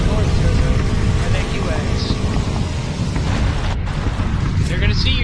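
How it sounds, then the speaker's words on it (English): Loud, dense explosions from a bombing run in the PUBG battle royale game, a continuous rumbling barrage of booms and bursts that fills the whole stretch, with a voice talking underneath. "I'm in a bombing run."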